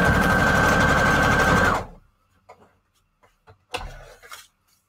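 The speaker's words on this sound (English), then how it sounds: "let's do a couple straight stitches." A sewing machine runs straight stitches through strips of paper scrap for journal embellishments, a loud steady whirr for nearly two seconds that stops abruptly, followed by a few faint handling clicks and a brief rustle.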